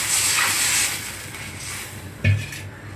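Tamarind water poured into a pot of boiling tomato rasam gives a steady, close hiss of sizzling and bubbling, with one brief heavier splash near the end.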